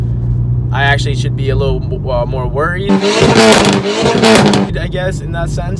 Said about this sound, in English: in person, the car has a really loud booming sound